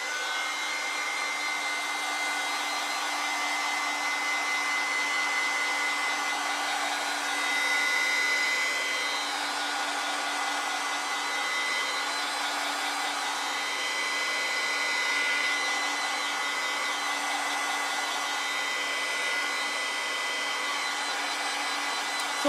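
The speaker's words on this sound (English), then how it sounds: "So I'm going to just dry that with the heat gun." A heat gun blows steadily over a watercolor painting to dry the background, a continuous close airy whir with a faint whine, swelling slightly around the middle and again later, with no talking.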